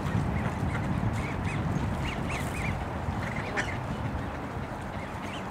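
A coot calling on Lake LaFarge: repeated short, nasal honking calls, fairly close and clear, over a constant outdoor background hiss.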